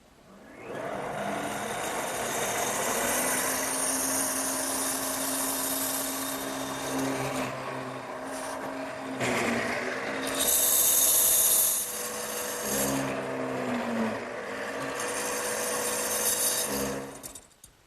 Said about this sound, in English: by making several plunges into the leg